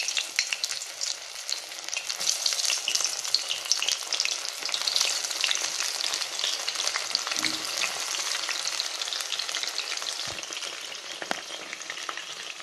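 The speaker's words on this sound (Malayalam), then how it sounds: "സോയാ ചങ്ക്സ് നന്നായിട്ട് തിരിച്ചു മറിച്ച് വിട്ട് നല്ല ക്രിസ്പി ആയിട്ട് നമുക്കിത് ഫ്രൈ ചെയ്തെടുക്കാം." Soya chunks deep-frying in hot oil make a loud, continuous bubbling sizzle full of crackling spits, with occasional stirring clinks and no talking.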